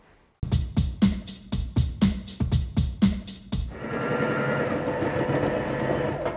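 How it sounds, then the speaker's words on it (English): A sewing machine stitches fabric for a homemade ornithopter, about eight to nine quick mechanical bursts in a steady rhythm, close and loud, then a continuous whirring run of stitching to the end. "Now I sew the tail in similar manner and install the parts on the fuselage"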